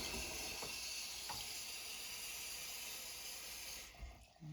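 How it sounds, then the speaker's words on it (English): Water runs steadily into a small jar while pigment is rinsed, a soft continuous hiss and trickle that ends with a brief clink and splash. "And this is going to be the last rinse."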